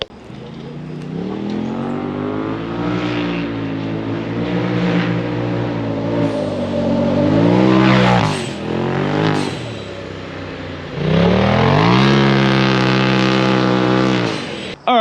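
A Polaris RZR XP Turbo side-by-side engine revs hard, rising and falling through several throttle bursts, loud and close, then pulls away and comes back on strong again.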